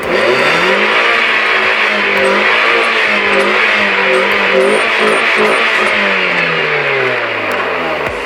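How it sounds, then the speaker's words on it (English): A car engine rigged to shoot flames from the exhaust revs loudly and continuously up close, its pitch rising and falling through repeated throttle blips. "So the just revving it thing didn't work"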